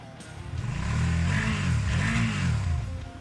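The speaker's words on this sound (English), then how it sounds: "Suzuki SV650." A Suzuki SV650 motorcycle engine revs twice in quick succession, its pitch sweeping up and back down each time, loud and close with no talking.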